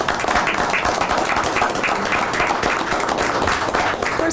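Audience applause with scattered cheering at a school board meeting, a dense steady wash of clapping that holds at an even level throughout without letting up.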